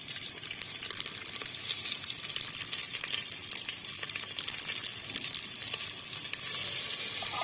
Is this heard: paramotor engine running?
no